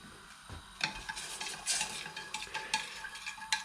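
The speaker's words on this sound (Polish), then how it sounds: "Już gotuję lukier." A spoon stirs sugar and water in a pot as icing for cinnamon rolls cooks, scraping and clinking against the metal in irregular bursts over a soft bubbling sizzle.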